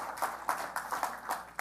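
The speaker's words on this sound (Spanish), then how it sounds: "dele un aplauso al Señor" Church congregation clapping for the Lord during a sermon, a faint, steady stream of rhythmic claps at a distance, with sharp beats pulsing roughly every quarter second across the short moment.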